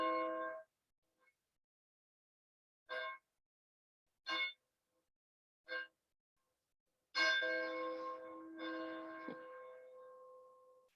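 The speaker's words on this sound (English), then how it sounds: "I want to begin our special service this morning by ringing the bell in our bell tower" Church bell rung in a tower at the start of a morning service: several separate clear strokes, then a final strike that hangs and fades slowly in a quiet sanctuary.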